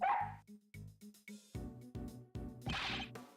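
A dog in an Ace Attorney Investigations fandub gives a run of short, close barks and yips, about eight evenly spaced bursts with a whimpering edge, fairly quiet overall.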